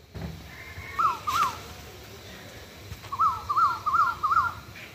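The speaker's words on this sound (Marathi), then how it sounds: "आणि इकडं कोकिळाचा आवाज येतोय." An Asian koel calls at dawn, two rising, whistled notes, a pause, then a run of four more at a steady pace, moderately distant over a soft outdoor hush.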